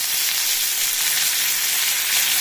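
Dried red chillies and a sprig of fresh curry leaves sizzle steadily in hot oil for a Chettinad mutton chukka varuval, a loud, continuous close-up frying hiss with no talking.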